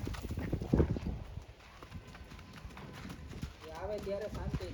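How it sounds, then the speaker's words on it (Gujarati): Horse hooves clip-clopping on a road during a wedding procession, a steady rhythmic clatter of moderate loudness with people talking over it throughout. "વાહ ઘોડો હા"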